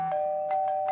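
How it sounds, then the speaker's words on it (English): An electronic doorbell chimes, a sustained tone with a few soft repeated pulses, clear and close in a quiet room. "Wonder how it rang the doorbell"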